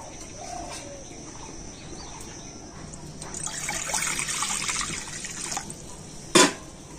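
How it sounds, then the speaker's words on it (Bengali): Water is poured into a wok on a kitchen stove, a soft rushing splash lasting a couple of seconds before a sharp clank; faint birdsong carries on in the background. "তো কড়াতে আমি দিয়ে দেব জল।"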